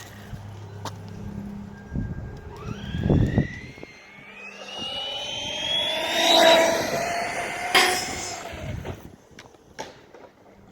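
A Redcat Kaiju RC car's electric motor whines and rises in pitch as it revs up into a standing wheelie, fairly close, with scattered thumps and rattles alongside.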